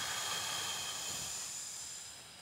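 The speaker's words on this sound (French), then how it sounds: "Et on souffle." A singer's long, steady exhalation during a breathing exercise in a vocal lesson, a soft continuous airy hiss that slowly fades over a couple of seconds, with no talking.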